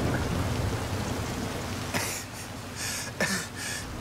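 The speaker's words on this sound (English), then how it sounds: "The storms can be bad, but the ancient peoples of this region knew the value of the rain." Rain hisses steadily during a storm in the racing game Forza Horizon 5, a dense wash of drops, with short bursts of louder splashing toward the end.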